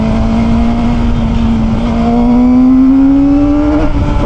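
A Kove 450RR motorcycle engine revs steadily upward at high RPM in second gear, a loud, continuous rising drone held close for several seconds with no talking.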